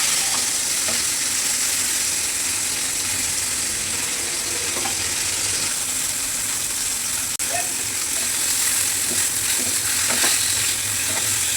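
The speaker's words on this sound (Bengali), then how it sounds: "মাছগুলোকে উল্টে দিই, একটুখানি ভাজা হয়ে গেছে" Fish pieces frying in a pan after being turned over, an even close sizzle of hot oil throughout with scattered light pops and a faint clink, and no voices.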